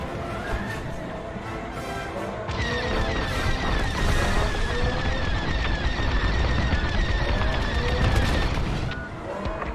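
A hangar is destroyed in the Star Wars Squadrons video game, with a sudden crash swelling into a dense, sustained roar of rumbling explosions and crackling debris that runs loud for several seconds before easing off.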